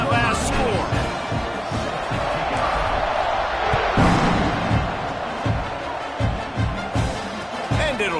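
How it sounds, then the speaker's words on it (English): A college football stadium crowd roars and buzzes after an extra point at an Ole Miss game, a dense, steady wall of cheering with sharp thumps and claps, while an announcer talks over it. "this crowd is buzzing after that last score"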